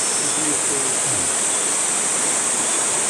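Gorae Waterfall, the seventh of the twelve waterfalls on Seongchisan in Geumsan, South Chungcheong, pours with a steady, continuous rush of falling water that fills the whole stretch evenly, with no voices.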